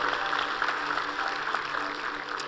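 A church congregation applauds the Lord in a steady, dense wash of clapping that holds evenly for a couple of seconds, with a faint voice and low hum underneath.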